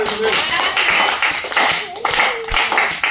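A church congregation claps together during a service, a steady patter of many hands, loud and close, with voices and tonal sound running through it.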